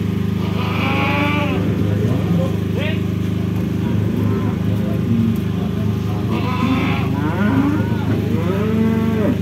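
Cattle at the Pacitan cattle market in East Java moo loudly and repeatedly over a constant crowd hum, with people talking nearby.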